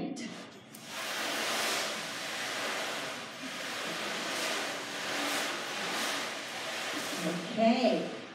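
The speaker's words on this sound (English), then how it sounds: "then there was a mighty wind" A broad, surging rush of wind, presented as a mighty wind effect at a worship gathering, swells and ebbs in waves for several seconds, with a brief clatter near the end.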